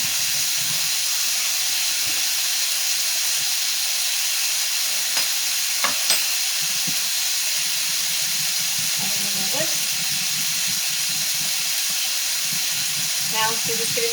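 Chicken and broccoli stir-fry in a pan after a slurry is added, making a loud, steady sizzle and hiss that runs throughout, with occasional faint clinks of stirring.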